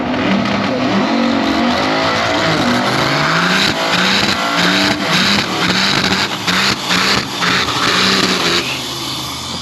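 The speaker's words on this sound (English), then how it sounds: "First time ever down a track with his purpose-built race truck." A purpose-built race truck launching down a drag strip, its engine loud and close as it revs through rising gear pulls with a few shifts, with roaring exhaust throughout.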